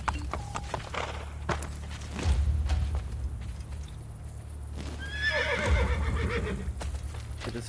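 A horse neighs in the Assassin's Creed Brotherhood video game, with hooves clip-clopping across the ground. Two loud whinnies rise above a steady background, one near the middle and a longer one toward the end.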